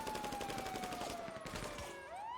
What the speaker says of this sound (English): Open fire on them.